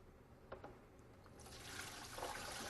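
Sanitizer solution poured into a SaniServ 500 Series twist ice cream machine, faint liquid sloshing that swells into a steady rushing pour; no talking.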